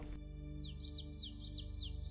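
Birds chirp in a quiet mountain meadow, a series of quick rising and falling tweets repeating rhythmically over a low steady hum, fairly clear and close, with no distinct cricket trill standing out.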